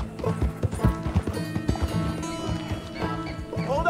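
Horse hooves clip-clop in a Western-themed game, a rhythmic trotting beat of thudding steps, close and clear, set against tonal background music.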